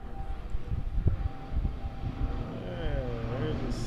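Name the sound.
seaplane taking off near Juneau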